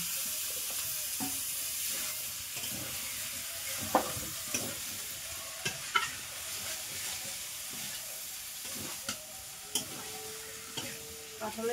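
Boiled potato and jackfruit pieces stirred into fried spiced masala in a pan, with a continuous low sizzle and scattered sharp clicks of a spatula against the pan.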